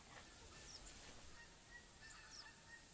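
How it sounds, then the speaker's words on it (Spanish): A Canada goose honks in The Hunter Classic game at Hirschfelden, faint and distant, a few short calls over a steady ambient hiss of wind and outdoor noise. "El ganso."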